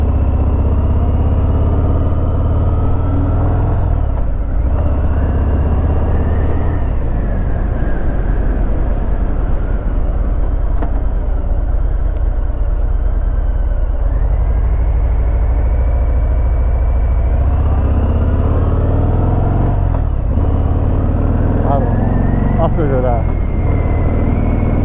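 Las Vegas road traffic heard from a 2018 Harley-Davidson Fat Bob motorcycle while riding, a steady loud engine and wind rumble that continues throughout, with a voice talking over it.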